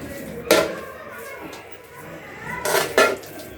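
Coconut mithai (kobri sweet) being scooped onto a plate in a home kitchen, with a few sharp clanks of a metal utensil against the plate at spaced moments over a quiet background.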